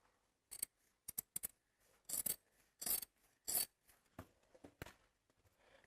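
Scissors cut through stitched chudidar fabric in a series of sharp, close snips at irregular intervals, with quiet pauses between cuts.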